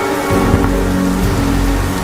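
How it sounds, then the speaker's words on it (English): Loud steady rain with low rumbling thunder in a video game scene, a dense continuous hiss over deep rolling tones with no speech. "It's raining and it's cold."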